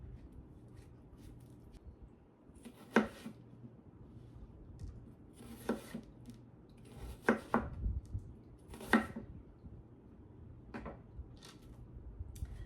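Knife chopping a large onion into quarters on a board, a handful of sharp separate thuds spaced a second or two apart over a low room hum, close and without talk.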